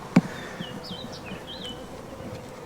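A caught honeybee swarm buzzes on hive frames, a low, steady drone close by, opening with one sharp knock, and a few faint chirps threading above the hum.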